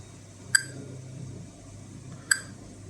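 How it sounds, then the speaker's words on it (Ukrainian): A Geiger counter dosimeter clicks as it registers gamma quanta. Two sharp, bright clicks sound about two seconds apart over a faint low background hum. "От звук чуємо клацання кожного гамма-кванта."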